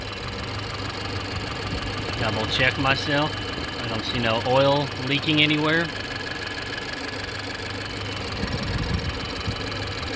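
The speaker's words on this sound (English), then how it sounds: "let my engine run for a little bit" A 2017 Ford Fusion engine idles after a variable valve timing solenoid replacement, with a steady low rumble throughout while someone talks over it nearby.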